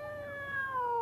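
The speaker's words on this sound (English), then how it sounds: "Here, kitty, kitty, kitty, kitty, kitty." A cat lets out one drawn-out, falling meow, close and clear, about a second long, with no voice over it.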